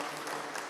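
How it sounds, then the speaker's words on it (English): Audience applause for a panel at an open house presentation, a steady dense wash of clapping filling the short moment without voices. "please give a great round of applause for our panelists"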